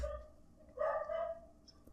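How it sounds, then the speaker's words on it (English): A dog barks somewhere off in the background, a couple of faint, muffled woofs set back from the listener, with no one talking over them. "I hear a dog barking."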